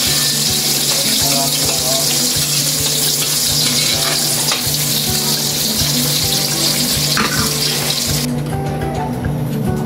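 Onions sautéing in a pan for bupis while a utensil stirs them, a steady close sizzle with repeated scraping strokes throughout, with no talk.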